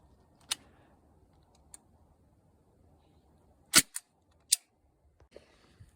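A SIG MCX airgun fires a pointed lead pellet into pork outdoors. A few sharp, isolated cracks and snaps ring out, one much louder than the rest, separated by quiet gaps.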